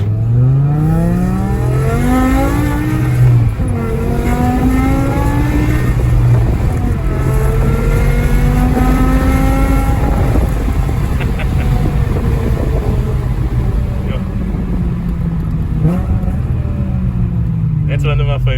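A BMW E60 M5 V10 in sport mode accelerates hard, with rising engine tones climbing and dropping through gear changes under steady road and wind rumble while people talk.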